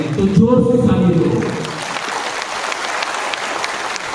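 A crowd claps at a political rally, the applause rising under a loud voice at the start and then carrying on alone as a steady, dense patter.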